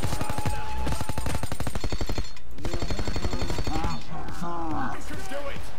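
An assault rifle in Payday 2 fires rapid full-auto bursts, loud and close, with a short break before another burst, then scattered shots under game effects and a brief voice.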